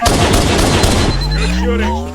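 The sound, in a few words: gunfire in video game Halo: Combat Evolved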